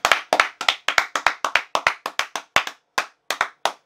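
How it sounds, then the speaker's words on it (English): About sixteen separate hand claps, sharp and close, landing in an uneven rhythm on their own with no talking, during a UK rap freestyle session. "Clap."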